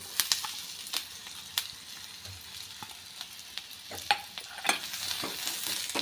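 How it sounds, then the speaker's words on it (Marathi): Chopped onion and grated coconut roast in a dry pan, giving a steady close sizzle with repeated scraping and stirring strokes of a spatula and small clinks throughout. "कांदा आणि खोबरं दोन्ही व्यवस्थित भाजलं जाईल"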